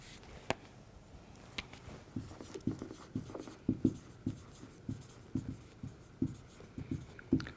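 Marker strokes on a board while someone writes out a website address, a series of quiet close scratchy taps and squeaks in an irregular rhythm, with no talk over it.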